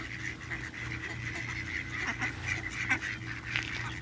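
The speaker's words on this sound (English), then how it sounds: "looks almost like a goose, but I think it's a duck actually" Ducks at Daybreak quacking and honking while being fed by a group of girls, a mix of nasal calls close by, repeated irregularly over a low background murmur.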